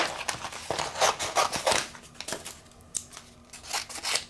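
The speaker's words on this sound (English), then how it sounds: "we're going to use the 3M adhesive, and basically I'm just going to cut some strips" Close crisp snips of scissors cutting strips of 3M adhesive tape, a rapid uneven series of short cuts with faint crinkling of the backing between them, no talking.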